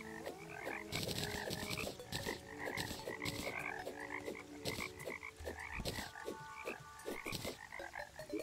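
Frogs croak in Terraria, a dense chorus of rhythmic repeated croaks layered over steady game music and chirping ambience throughout.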